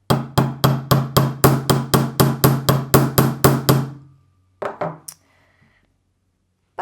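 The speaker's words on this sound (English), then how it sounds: "I'm going to show you it's just as easy to hammer a plated wire." About a dozen sharp metallic hammer strikes on plated wire in a steady, quick rhythm, close and loud, then a pause and a couple of lighter taps.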